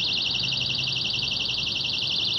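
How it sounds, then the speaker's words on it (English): A lipstick-style personal safety alarm shrieks outdoors, a loud, piercing warbling tone that pulses rapidly and steadily throughout, with no talking. "And at first we're going to try the lipstick alarm."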